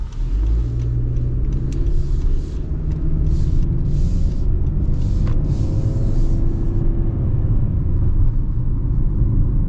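A 2026 Honda CR-V EX accelerates, its engine and road rumble heard from inside the cabin as a steady, loud low drone that rises gently in pitch.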